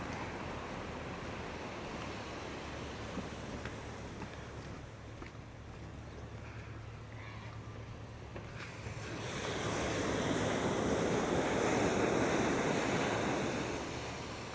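Ocean waves wash onto a beach in Kihei, Maui, a steady roar of surf with some wind noise, growing louder and fuller in the last few seconds as a wave breaks close by.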